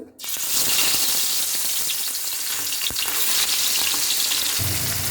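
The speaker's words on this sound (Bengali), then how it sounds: "বন্ধুরা এদিকে তৈল গরম হয়ে গেছে, এখন মাছ দিব।" Tangra fish dropped into hot oil in a karahi, a loud, dense, continuous frying roar with bubbling crackle running unbroken after a brief quiet start.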